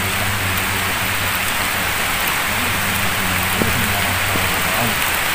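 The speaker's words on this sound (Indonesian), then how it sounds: "Ini hujan dari tadi apa enggak?" Steady, dense rain pours down continuously and loudly, a constant hiss with occasional faint voices underneath.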